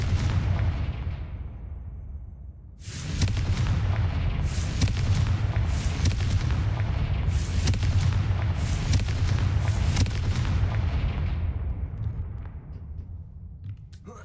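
Confringo spell blasts go off in the Hogwarts Legacy game, a loud rumbling series of booming explosions that swells after a brief lull, repeats several times, and then slowly fades.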